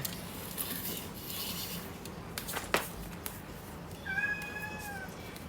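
A house cat in an apartment meows once near the end, a short tonal call that rises and then settles, heard after a stretch of soft rubbing and rustling noises with a few light knocks.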